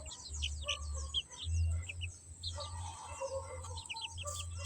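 A mother hen and her chicks in a backyard flock, with high quick chick peeps scattered over a steady low hum, fairly faint and close.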